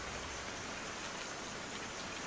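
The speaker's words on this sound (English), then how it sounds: "I'm a bit fed up with this rain now." Steady rain falls in the farming video game Farming Simulator 19 on PS5, a constant, even hiss of drops with no breaks or voices.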